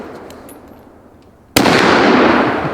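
A single loud gunshot from a Bavarian 85 carbine bolt-action rifle fired outdoors, a sudden sharp crack rising abruptly out of quiet background noise and followed by a long, broad, decaying roar of echo.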